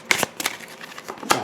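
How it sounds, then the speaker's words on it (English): A deck of game cards for a Batman: The Dark Knight Returns board game is shuffled up close, giving three quick riffling bursts over about a second and a half. "I'm going to give them a quick shuffle."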